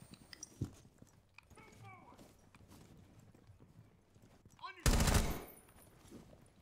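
A video game firefight brings one sudden loud, close gunshot blast after a stretch of quieter talking and faint thuds, then the scene settles back to low background noise.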